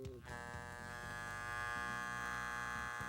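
A Wahl electric hair clipper buzzes steadily at high power, a close, continuous motor drone with a slight rattling flutter and no talking.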